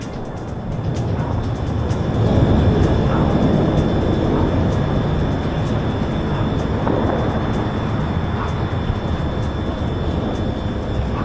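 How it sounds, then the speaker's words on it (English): A commercial airliner takes off over the Lebanese capital amid smoke after airstrikes, its engines a loud sustained roar that swells after the first couple of seconds and holds steady, with faint ticking clicks on top. "A commercial airplane was seen taking off amid smoke and explosions after Israeli airstrikes hit the Lebanese capital."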